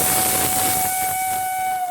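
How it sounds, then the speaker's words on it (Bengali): A pressure cooker boiling peeled jackfruit seeds lets out a loud, steady, high whistle over rushing steam hiss that carries through the whole short moment. "এইবার এটিকে প্রেশার কুকারে দশ মিনিট সেদ্ধ করে নিই"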